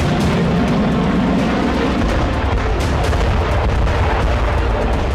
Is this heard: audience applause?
no